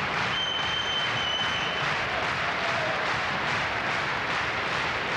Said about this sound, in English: causes the audience here to erupt in rhythmic applause